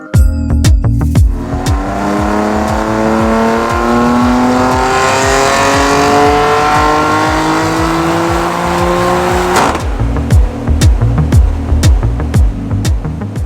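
A tuned stage 2 BMW M4 engine runs hard on a dyno, its loud revving climbing steadily in pitch for about nine seconds before cutting off abruptly and settling into a rough idle with crackles.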